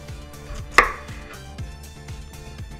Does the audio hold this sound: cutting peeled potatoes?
yes